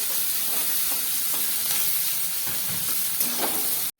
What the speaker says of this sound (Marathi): आता आपण यामध्ये अगदी थोडंसं मीठ घालून घेऊया जेणेकरून आपला कांदा फास्ट या ठिकाणी तेलामध्ये फ्राय होईल